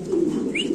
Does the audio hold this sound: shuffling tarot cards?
no